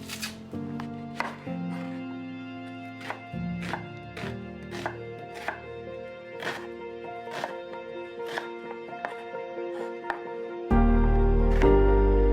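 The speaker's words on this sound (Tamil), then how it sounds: "தேவையான பொருட்கள் எல்லாத்தையும் ஃபஸ்ட்டு நம்ம கட் பண்ணி எடுத்துக்கலாம்." Spring onion, onion, tomato and garlic chopped with a knife on a board, a steady run of sharp close knocks that speeds up at times, with a louder steady hum joining near the end.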